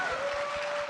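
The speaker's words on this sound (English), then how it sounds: "Clap" Brief burst of audience applause at a podcast summit, a quick patter of hands heard at a moderate distance, with a steady tone running underneath.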